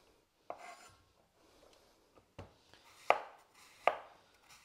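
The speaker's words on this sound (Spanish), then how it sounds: "La voy a pelar y a cortar en cuadritos." A knife chops an apple into small cubes on a cutting board for chiles en nogada, giving a few quiet, separate knocks and slicing crunches at an uneven pace, close and with no talk.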